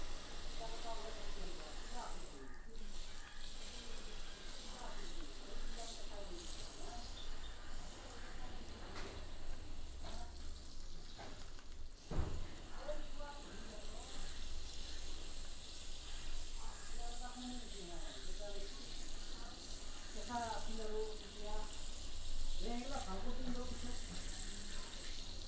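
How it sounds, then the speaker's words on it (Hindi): Water poured onto a potted guava cutting, a steady soft splashing and trickling hiss over about twenty-five seconds, with someone talking over it at times. "अब मैं इस पर पानी दे दूंगा"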